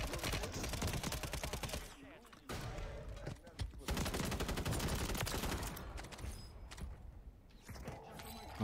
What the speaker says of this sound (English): We getting sniped at too.